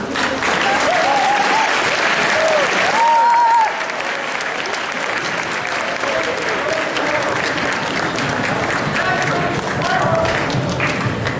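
A high school audience at Central Catholic breaks into sustained, loud applause welcoming a speaker to an End Distracted Driving presentation, dense clapping filling the hall without letup, with faint voices underneath.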